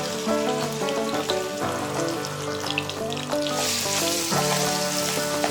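Steady crackling sizzle of garlic-ginger paste frying in hot oil for a dal tadka, continuous and close, with a faint tonal hum running underneath.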